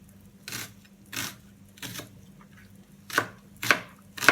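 Meat trotters for goat leg soup are cut finely with a knife on a board, six distinct chops in an uneven rhythm, close and clear with quiet gaps between.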